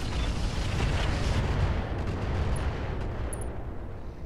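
Heavy mech weapons fire in the BattleTech game with the Roguetech mod, a loud rumbling barrage of booming blasts and explosions rolling continuously and slowly fading toward the end.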